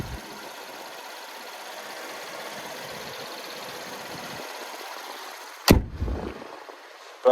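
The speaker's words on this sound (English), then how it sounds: "there's that naturally aspirated V6" The naturally aspirated V6 of a 2012 Buick LaCrosse idles with a low, steady hum, then a sharp thump, like a hood or door closing, cuts in near the end.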